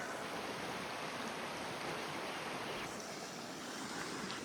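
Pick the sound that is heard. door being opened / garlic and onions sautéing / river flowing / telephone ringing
river flowing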